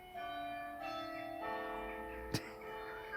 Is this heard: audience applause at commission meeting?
no